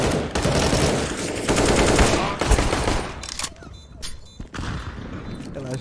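Loud, dense gunfire from a CS:GO match, with sustained automatic bursts that break into sporadic sharp shots, while voices can be heard underneath.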